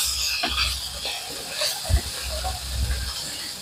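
Bitter gourd and potato pieces fry in a pan with a continuous close hiss, joined by occasional low knocks and soft clatter, and no speech.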